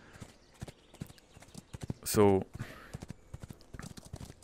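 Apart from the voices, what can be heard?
horse galloping in VR video game Kroy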